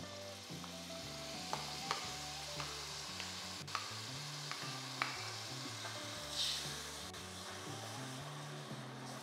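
Banana pieces sauté in ghee in a hot heavy-bottomed uruli, a continuous sizzle and fry with a few sharp stirring clinks and scrapes scattered through, fairly quiet and with no talk.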